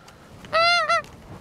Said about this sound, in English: But a lot of geese flying in off the sea,